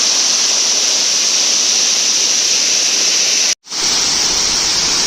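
The Five Falls waterfall at Courtallam roars with a steady, loud, broadband rush of cascading water. A brief dropout cuts the sound near the end before the roar resumes.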